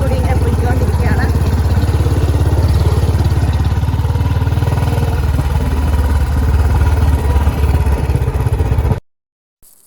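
A Royal Enfield Bullet motorcycle rides along a narrow road through a tea plantation, its steady low thumping engine loud and close with wind rush, before cutting off abruptly near the end.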